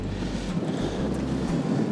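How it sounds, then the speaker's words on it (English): Strong wind gusts roar across a fishing boat on Kinkaid Lake, a dense, continuous buffeting rush with low rumbling pulses and no voices. "That wind was howling."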